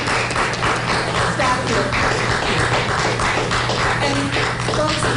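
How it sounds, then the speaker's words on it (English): Applause for frontline hospital staff at a COVID-19 vaccine event, steady dense clapping from a gathered group running throughout, with a voice speaking over it. "Let's have a round of applause for our frontline"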